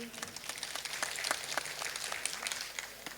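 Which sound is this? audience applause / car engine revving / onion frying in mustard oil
audience applause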